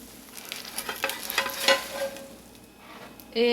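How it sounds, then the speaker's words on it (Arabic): A fava bean omelette (egg) frying in an oiled pan on the stove just after being flipped, giving a soft steady sizzle with a few light scrapes and clinks. "هقلبها دلوقتي واسويها من الناحية التانية"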